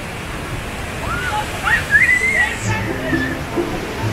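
Agua Azul waterfall roars as a broad steady wash of rushing water, fairly loud and constant, with a voice and a whistle-like sound briefly rising over it.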